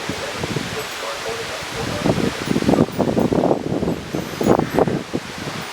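Damaging thunderstorm wind gusts rustle through leaves in bursts, a loud, broadband whoosh that swells and fades repeatedly.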